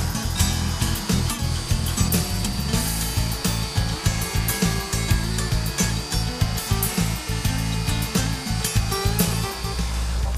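A saw rips lengthwise down a board at a 45-degree bevel in a steady, loud, close cut, with a continuous buzzing drone and rhythmic rasping pulses and no talking.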